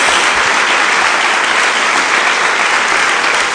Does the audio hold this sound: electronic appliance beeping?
no